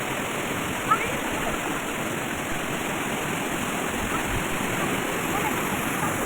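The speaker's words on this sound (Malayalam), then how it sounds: "പാറക്കെട്ടിലൂടെ ഒഴുകിയെത്തുന്ന വെള്ളം എന്തു രസമാണ്!" Vazhvanthol waterfall in the forest near Ponmudi pours over rocks in a steady, unbroken roar of rushing water that stays loud and even throughout, with one brief splash near the start.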